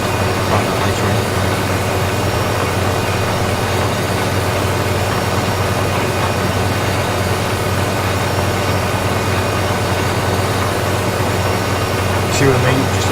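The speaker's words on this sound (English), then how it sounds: "That's both the tractors running now." Two tractor engines running together in the Farming Simulator 15 video game, a steady droning rumble throughout, with someone talking over it.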